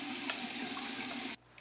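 Tap water runs steadily into a bathroom sink as a face is rinsed at night, a continuous close hiss and splash that cuts off abruptly near the end, leaving near-quiet.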